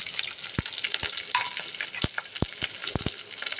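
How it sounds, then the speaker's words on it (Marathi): Sliced garlic and green chillies frying with cumin and mustard seeds, heard as a quiet, soft sizzle punctuated by sharp crackles and taps from popping seeds and stirring. "मोहरी आणि जिरे तडतडून झाल्यानंतर आपल्याला काप केलेला लसूण आणि मिरच्या घालायच्या"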